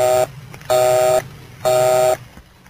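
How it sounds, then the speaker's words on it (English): A harsh buzzing busy tone pulses three times in short, evenly spaced bursts, loud and alone. "If the line is busy, you'll hear this busy signal."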